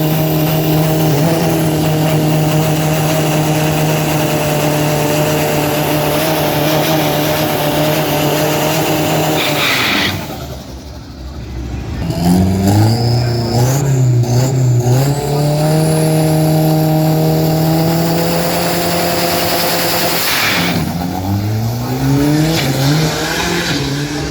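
An Isuzu D-Max pickup race car roars past during qualifying at the Khlong Ha circuit, its loud engine note rising and falling through gear changes, with a second surge of revving and tire noise as more cars pass, no talking.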